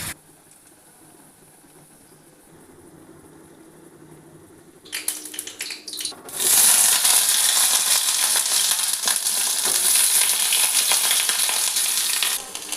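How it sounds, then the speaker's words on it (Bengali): Red lentil fritters (musur dal bora) frying in oil, quiet at first with faint bubbling, then a handling clatter before a loud, dense, sustained sizzle takes over for the remaining seconds. "দেখুন আমি বড়াগুলো ভেজে নিচ্ছি আগে"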